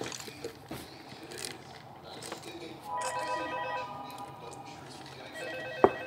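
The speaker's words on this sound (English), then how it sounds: "Dude, answer the phone." An old-style telephone rings in a Five Nights at Freddy's animation, its repeated tonal bell trilling over a soft background bed at moderate loudness, followed by a brief sharp click at the end.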